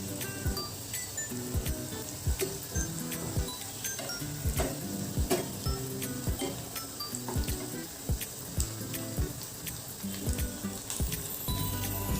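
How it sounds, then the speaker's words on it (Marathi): Vadis shallow-frying in hot oil in a pan, a steady crackling sizzle with scattered sharp pops and ticks throughout, close and continuous with no talking. "अशा पद्धतीने ह्या वड्या आपल्याला तळून घ्यायच्या आहेत"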